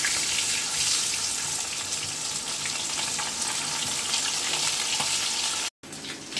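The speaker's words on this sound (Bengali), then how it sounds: "ফার্স্টে আমি নুন হলুদ মাখিয়ে মাছগুলোকে ভেজে নেব।" Snakehead fish pieces, rubbed with salt and turmeric, sizzling in hot oil in a wok, a loud continuous crackling fry with brief stirring scrapes and a short cut near the end.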